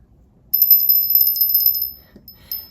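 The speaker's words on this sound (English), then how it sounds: "This is your reading if you chose the little brass bell." A tiny etched brass bell jingles rapidly and brightly for about a second and a half, then falls quiet before one last soft ring, alone with no speech.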